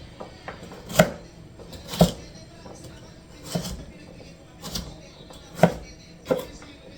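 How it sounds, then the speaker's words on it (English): A knife slices through food on a cutting board while seafood chowder is being prepared. Several separate, sharp thunks land about a second apart, fairly close and moderately quiet, with no talking. "We're just gonna slice it in half."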